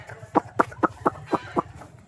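A village hen clucking in a steady series of six short, evenly spaced clucks, close and clear over a low background hum.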